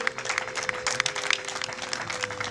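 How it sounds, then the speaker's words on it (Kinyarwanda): Wedding guests break into dense, continuous applause, many hands clapping at once, with a steady high ululating cry held throughout. "amashyi menshi n'impundu"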